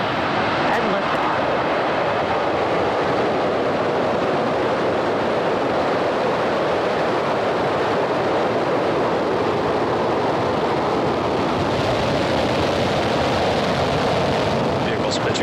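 A SpaceX Falcon 9 rocket lifts off, a broad, loud, sustained roar that stays steady and unbroken, with voices talking over it.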